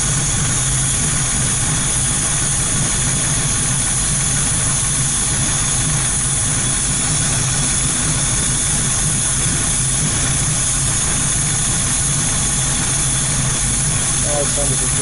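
A warmed-up car engine fitted with an Edelbrock Pro Flo 4 EFI idles steadily, loud and close, with a continuous low rumble and no change in rhythm throughout.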